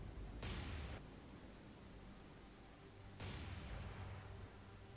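Naval guns of the battleship USS North Carolina firing a salvo in the game War on the Sea: two distant, muffled booms a few seconds apart, each a low thud with a brief hiss over a constant rumbling background.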